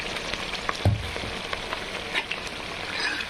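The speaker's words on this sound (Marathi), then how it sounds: "मला वाटतं ग्रेव्ही फ्राय झालेली आहे" Gravy for a chana dal amti curry fries softly in a pan, a faint steady sizzle with a few small pops and clicks, no one talking.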